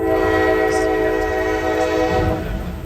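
A loud, sustained train horn blaring steadily at a railroad crossing over the low rumble of a passing train, close and continuous throughout.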